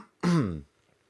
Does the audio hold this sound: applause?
no